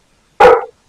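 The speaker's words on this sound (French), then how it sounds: "Pour les bruits de chiens" A single loud, close dog bark rings out sharply once and stops, with silence on either side.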